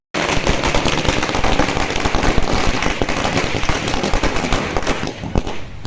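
Firecrackers burst in a dense, loud, continuous crackling barrage at a farmers' association victory celebration at a town circle in Shiggaon, Karnataka, with no talk heard over the noise.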